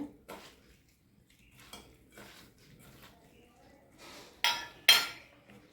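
Ingredients for oats muthiya being mixed in a bowl, with soft scraping and tapping of a utensil against the dish and two sharper clinks near the end, no voices.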